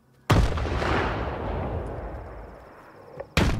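Grenade explosion in Stalker 2: Heart of Chornobyl, one loud close blast that rolls off into a long decaying rumble, followed a few seconds later by another sharp bang.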